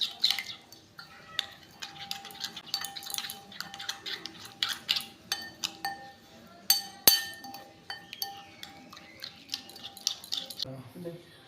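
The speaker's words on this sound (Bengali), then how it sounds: "এটাকে ভালো করে মিশিয়ে নিচ্ছি" A homemade hair-darkening mixture with vitamin E capsule oil stirred in a glass bowl, giving irregular light clinks and scrapes of a utensil against the glass, close and fairly quiet.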